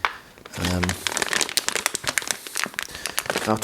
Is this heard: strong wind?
no